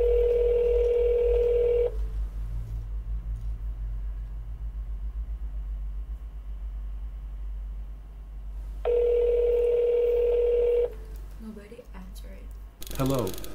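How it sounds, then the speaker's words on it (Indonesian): In the Roblox video game, a telephone tone plays as a call is placed, a steady tone that stops, then a long muffled low rumble, then the tone returns before a short click, with no talk over it. "Oke, kita telepon sebentar. Telepon, kita telepon perusahaan kita ya."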